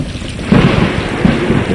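Loud rumbling thunder rolling over steady rain in the video game Stray, with deep low booms swelling and fading, no voices.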